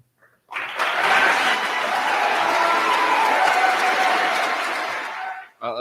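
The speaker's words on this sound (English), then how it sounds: "The applause. The place went nuts after that" Loud, sustained applause and cheering from a crowd filling an arena meeting in San Antonio, a dense roar of clapping that swells in and holds for several seconds before dropping away abruptly.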